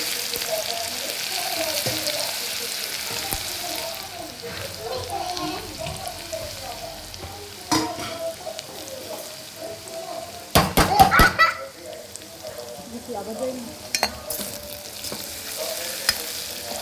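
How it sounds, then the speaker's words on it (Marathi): Curry leaves, crushed chillies and garlic fry in a hot pan with a continuous sizzle, broken by spoon-stirring scrapes and knocks, while someone talks over the cooking. "कढीपत्ता घालून झाला की हा पण ठेचलेल्या मिरच्या आणि लसूण आहे तो घालायचं"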